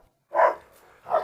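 A dog on a farm with Belgian Malinois and Karabash dogs, two sharp, close barks a moment apart, loud against an otherwise quiet background.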